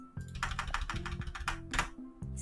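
Rapid keystrokes on a computer keyboard typing into Notepad, a quick run of about ten crisp clicks over a steady low hum, close and distinct.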